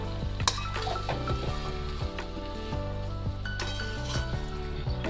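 Chicken pish pash being stirred in a pan over a gas flame, with soft sizzling and occasional spoon clinks under a loud, steady background hum.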